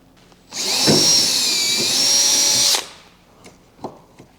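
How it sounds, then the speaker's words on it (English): A power drill with a 1/8 inch bit bores a hole behind a screw near the bow of a boat, a steady high whine lasting about two seconds, close and loud, followed by a few light clicks and taps. "I've got my 1/8 inch drill bit, and I'm going to drill a hole right behind the screw"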